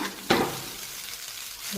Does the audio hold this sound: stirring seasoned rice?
yes